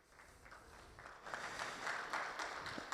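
Audience applause breaks out at a conference session, starting faint and swelling into a steady, moderately distant wash of clapping from a seated crowd.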